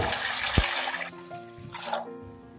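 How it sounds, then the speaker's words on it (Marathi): Water pours into a pan of soaked chana dal in a short gushing splash that rises in pitch as the pan fills, then trails off into quieter trickling. "त्यामध्ये तिप्पट पाणी घाला"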